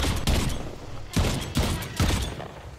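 Shotgun blasts from the video game Earthfall boom in a quick series of four loud, evenly spaced shots, each with a short decaying tail.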